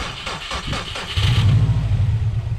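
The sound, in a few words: Subaru STI engine revving on hard clutch drop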